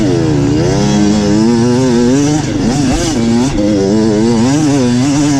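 Dirt bike motorcycle in a harescramble race climbing a big hill, its engine revving hard and loud up close, pitch rising and falling repeatedly as the rider works the throttle and clutch, with no voices.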